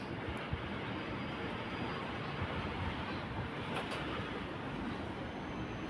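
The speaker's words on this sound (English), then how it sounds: "Approaching platform number 1 is a Cooper's Plains train." A passenger train rolls toward platform 1 at South Brisbane station, a continuous broad rumble and rail roar of steady loudness with no speech.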